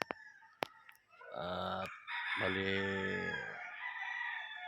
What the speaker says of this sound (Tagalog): Kumuha tayo ng manok dito.